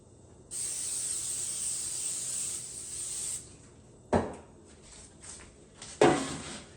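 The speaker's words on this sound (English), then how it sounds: "You just spray the pan really quick." Cooking spray hisses steadily onto a baking pan for about three seconds while bread or pizza dough is being made, followed by two sharp clanks of the pan nearby.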